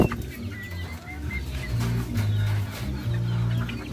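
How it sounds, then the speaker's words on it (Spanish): Fighting roosters cluck and call repeatedly at close range, a steady run of bird sounds with several louder, drawn-out calls and no talking. "Estos pollos no importa el pedigrí que tenga."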